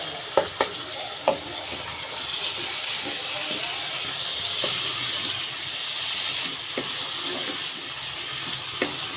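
Potatoes go into sizzling masala in a pan, with a few sharp clinks followed by a steady hissing fry that swells midway and stays loud and close.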